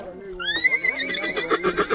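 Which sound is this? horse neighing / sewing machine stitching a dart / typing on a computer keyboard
horse neighing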